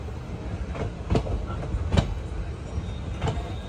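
Train pulling into Gadag Junction railway station, with a steady low rumble of rolling wagons and several sharp clanks and clacks standing out over the noise, fairly close.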